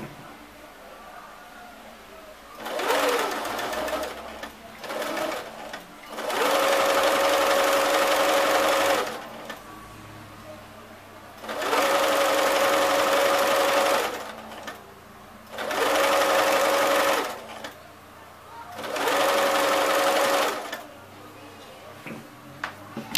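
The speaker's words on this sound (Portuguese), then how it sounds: "Aqui é o corpinho, vou costurar um pouquinho pra vocês verem." A sewing machine stitches the body of a homemade articulated ballerina rag doll, running in four or five steady bursts of a few seconds each with short pauses between them.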